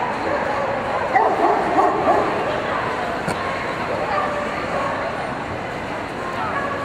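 Two dogs yip and bark in short excited bursts with a few whimpers, close by, mixed with people talking in a noisy crowd.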